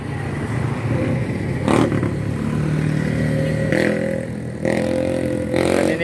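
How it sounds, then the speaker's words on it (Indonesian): A tour bus passing close by at a bus terminal, its engine rumbling and revving with clattering bursts over a steady low roar. "Ada bus pariwisata."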